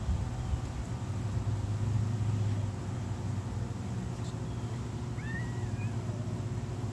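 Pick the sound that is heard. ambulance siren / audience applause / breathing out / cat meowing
cat meowing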